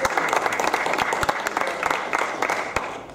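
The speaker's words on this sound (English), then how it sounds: "So, round of applause for our presenters." An audience at an IEEE engineering talk applauds its presenters, a dense, steady burst of many hands clapping close by, with a few louder individual claps standing out.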